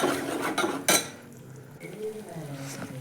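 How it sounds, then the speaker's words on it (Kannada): Chilli powder and spices are stirred into toor dal rasam in a metal pot, with a spoon scraping and clinking against the sides in short, close strokes and a faint voice in the background. "ಚೆನ್ನಾಗಿ ಮಿಕ್ಸ್ ಮಾಡಿರಿ."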